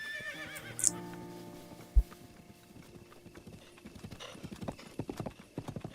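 A horse in the video game The Legend of Zelda: Breath of the Wild whinnies once, then its hooves clop in a steady rhythm, growing louder and closer over quiet game ambience.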